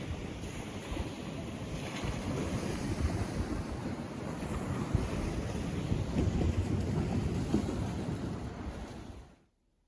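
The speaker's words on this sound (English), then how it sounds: "Just love the sound of the sea." Sea waves washing in along the Yorkshire coast below the cliffs, a steady close roar of surf with wind buffeting the microphone, continuous and loud with no voices, cutting off abruptly at the end.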